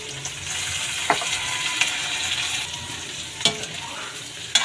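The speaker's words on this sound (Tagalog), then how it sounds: "Halu-haluin lang natin mga idol." Spoon stirring pakbet Ilocano vegetables with moringa leaves in a frying pan, a steady close sizzle with a few sharp scrapes and clacks of the utensil against the pan.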